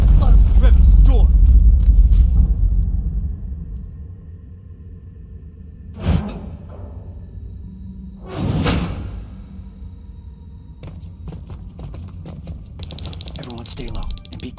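A door in the Terminator Resistance video game slides open with a brief mechanical whoosh, followed by a louder rushing swell, with game ambience and a voice near the start.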